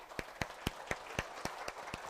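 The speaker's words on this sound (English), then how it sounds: "Clap for yourself." Steady hand clapping, about eight sharp even claps in two seconds, fairly close and alone without talk.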